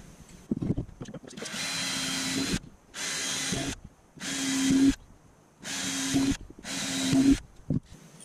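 A power drill bores holes in a homemade spinnerbait lure during assembly, running in about five short, close, loud bursts separated by brief pauses, with no talk.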